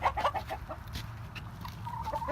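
A Wyandotte hen, a golden laced bird, clucks in a backyard chicken run in short, close, repeated clucks with a few higher calls near the end, with no talk over it.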